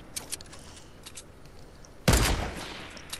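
Gunfire rings out during a squad battle in a shooter video game. A few faint, distant shots come first, then a loud, close burst of rapid fire erupts and trails off, with no voices.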